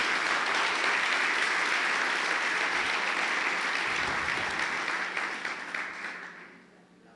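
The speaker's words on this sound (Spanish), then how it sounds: "Vamos a darle un aplauso fuerte" Loud, sustained applause from a church congregation at a Spanish-language worship service, a dense crowd clapping steadily for about six seconds before fading out.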